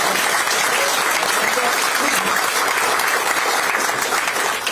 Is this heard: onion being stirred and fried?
no